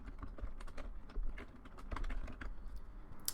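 Keys clatter on a computer keyboard in a quick, uneven run of close, crisp taps, a short burst of steady typing with no voice over it.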